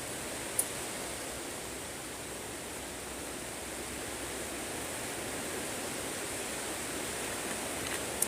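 Rainwater running downhill through a vegetable garden in a rainstorm, a steady broadband rush like a stream that holds constant throughout, with a couple of faint clicks.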